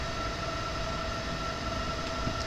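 In the Train Simulator 2020 game, a Talent 2 S-Bahn Mitteldeutschland electric multiple unit runs with a continuous loud rolling rumble and a steady motor whine, and no other sound breaks through.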